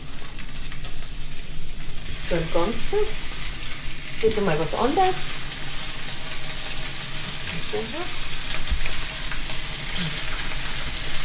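Butter sizzles steadily in a pan as pak choi fries, with someone speaking briefly over the crackle.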